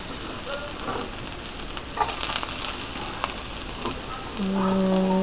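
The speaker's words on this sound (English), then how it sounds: "I'm just browning my garlic." Garlic browning in about a tablespoon of olive oil in a pan gives a soft, steady sizzle and crackle, faint and continuous with a few small pops.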